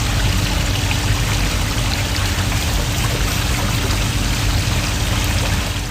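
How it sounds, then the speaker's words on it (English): Acetone poured generously onto a tower of foam cups, a steady loud pouring and trickling rush of liquid that holds evenly throughout, with no voices. "The experimenter forgot about any safety precautions and gloves and generously poured in the caustic liquid"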